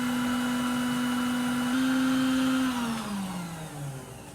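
An electric mixer on high whips muffin batter in a bowl with a steady, close motor whine that holds level, then dips in pitch and loudness near the end as the beaters slow.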